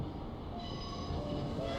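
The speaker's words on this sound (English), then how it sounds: "the train seems to arrive" A train arriving in the game The Charnel House Trilogy, heard as a continuous low rumble with a rising high metallic whine of brakes or wheels.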